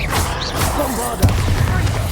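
A Bombarda blasting spell going off in Hogwarts Legacy: a sudden booming impact at mid-clip, thick with low rumble, over a dense bed of game effects and ambience.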